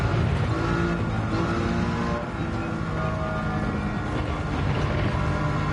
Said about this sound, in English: The intake noise is great out of this engine though.